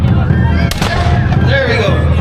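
A cannon fires at a Siege of Carrickfergus reenactment, one booming blast landing amid loud, continuous crowd noise and chatter.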